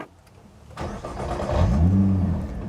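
A 2020 Nissan GT-R 50th Anniversary Edition engine cranks and fires up, swelling into a loud rising revving idle after a quiet start, heard alone and close.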